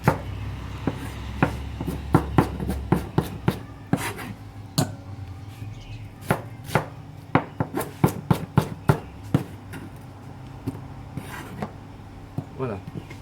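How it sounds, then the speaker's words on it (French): Knife chopping through pineapple and other fruits on a board in a home kitchen, a long run of sharp, close, irregular cuts with faint voice murmur between strokes. "Donc à partir de ce moment, on va tout découper."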